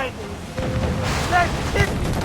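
Ship cannons fire in a rolling barrage during a naval battle in Assassin's Creed 4 Freedom Cry, with low booms rumbling beneath shouting crew voices and the sounds of the sea.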